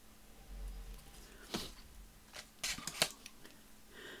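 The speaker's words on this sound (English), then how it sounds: "Let's cut it about there." Scissors snip through a sheet of botanical stickers, a few quiet, crisp cuts at close range with soft paper handling in between.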